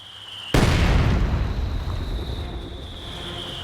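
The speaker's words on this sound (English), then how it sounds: "I'm bombarding along this position here with Nick" A large artillery explosion in the World War II strategy game Company of Heroes 2, a sudden loud blast that booms and rumbles, then slowly decays over a few seconds amid battlefield ambience.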